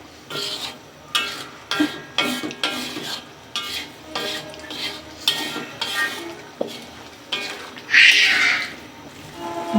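A spatula stirs tomatoes frying in a pan for a Bangladeshi aair fish curry, rhythmic scraping strokes repeating about every second over a soft sizzle, with one louder clatter near the end.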